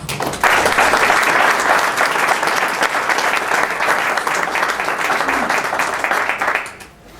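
An audience at a book presentation applauds, a dense and even burst of many hands clapping that holds steady for about six seconds and then quickly dies away.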